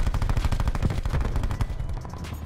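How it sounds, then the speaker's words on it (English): Rapid automatic gunfire in Call of Duty Black Ops, a dense, loud, continuous stream of machine-gun shots with overlapping reports and no talk. "Who's shooting from the roof?"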